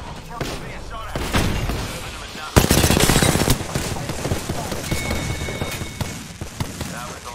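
Gunfire in Apex Legends during a firefight while playing Bloodhound, with loud rapid bursts and sharp single shots, one heavy impact, and in-game voice lines and game noise layered throughout.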